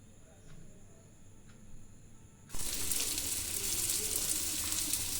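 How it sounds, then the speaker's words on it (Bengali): An egg fries in a pan, a loud, steady sizzle bursting in halfway through and holding to the end, after a quieter opening of faint kitchen noise. "ডিমটা প্রায় আমার ভাজা হয়ে গেছে"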